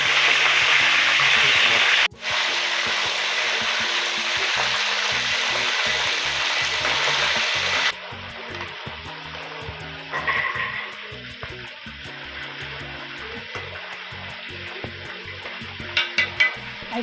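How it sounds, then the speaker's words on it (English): Chicken pieces seasoned with sea salt sizzle loudly in hot oil, a bright continuous frying hiss that drops to a quieter crackle partway through, with a few short clatters near the end. "I fry the chicken until golden brown."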